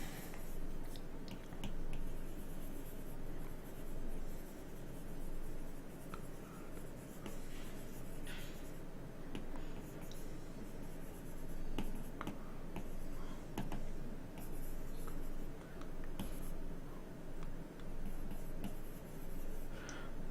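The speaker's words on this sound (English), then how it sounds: "we're gonna just draw a quick robot" An Apple Pencil sketches a robot on an iPad Pro screen, giving faint, steady tapping and scratching strokes throughout, quiet and close.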